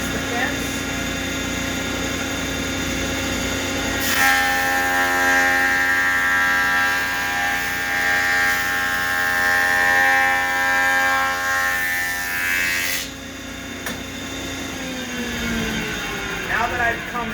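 A jointer machine whines steadily as a wooden board is fed through in a single flattening pass, the cutterhead roar rising loud and sustained for several seconds before the pitch drops as the cut ends.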